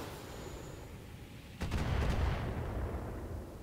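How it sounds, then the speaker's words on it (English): Long-range missiles fire and strike in the BattleTech video game: a quiet lull breaks into a sudden salvo of sharp, rapid bursts, then a heavy rumbling roar that slowly trails off. "With some of our long-range missiles."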